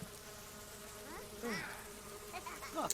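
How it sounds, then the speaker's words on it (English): Flies buzz around overflowing trash in the video game The Sims 4, several whining swoops passing close and fading, layered over a steady faint game hum, with no talking. "This trash is overflowing. We've brought back roaches and flies."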